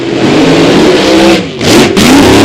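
A nitro funny car's engine revs at a drag strip test session, a loud, raw roar with a brief dip in the middle before surging back up to full volume.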